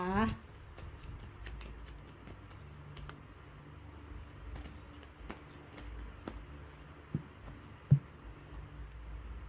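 Tarot cards are shuffled and cut on a table in soft, scattered riffles and taps, with a couple of sharper knocks near the end, while someone talks throughout.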